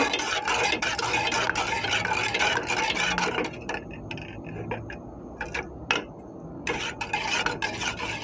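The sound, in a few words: teriyaki sauce with butter simmering on the stove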